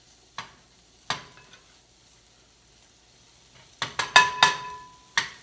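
Eggs with dates fry in oil in a pan on medium heat, a quiet background sizzle broken by several sharp clicks and scrapes of stirring, clustered near the end, with no voices.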